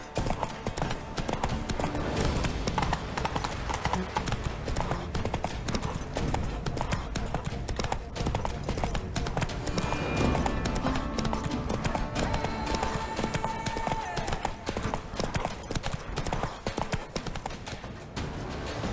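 Horse hooves gallop in The Witcher 3, a fast continuous clip-clop rhythm that runs for the whole stretch at a loud, steady level, with game sounds mixed in.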